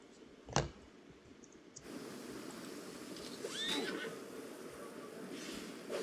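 A horse whinnies in a video game, a brief rising neigh mid-clip after a sharp click, set against a steady murmuring game ambience.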